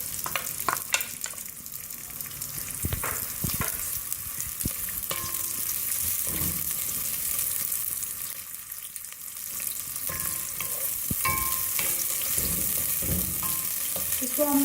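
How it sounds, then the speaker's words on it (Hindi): Onions fry in hot oil for mash daal with a steady, close hiss and crackle that runs the whole time, broken by occasional light utensil taps, with no talking. "सबसे पहले हम ऑयल गरम करेंगे और उसके बाद हम प्याज शामिल करेंगे इसके अंदर।"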